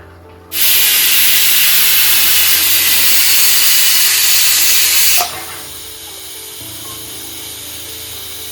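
A pressure cooker making coffee lets out one loud, steady hissing whistle lasting about four and a half seconds. It then cuts off sharply, leaving a quieter background hum with no voices.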